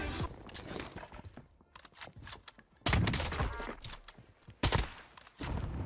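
Gunfire in the Free Fire video game, scattered sharp shots and short bursts at varying loudness, with quieter gaps between volleys.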